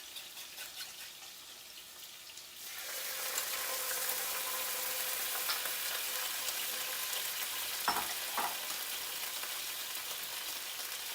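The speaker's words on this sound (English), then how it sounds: "These peppers are cooking. I'm going to give them Just a dash of this sauce." Peppers in a pan sizzling louder and fuller once teriyaki sauce is added, with a quiet sizzle at first, then a sustained bright hiss and a couple of light utensil taps.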